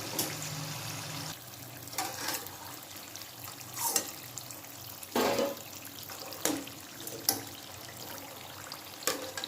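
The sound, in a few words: murukku frying and crackling in hot oil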